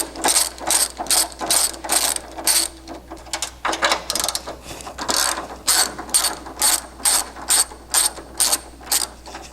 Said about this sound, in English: we'll just take out these 3 nuts